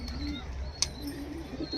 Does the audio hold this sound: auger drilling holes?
no